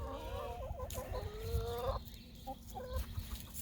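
Chickens in an expanded backyard chicken run, a rooster-like drawn-out call followed by scattered clucks, fairly close amid outdoor background noise.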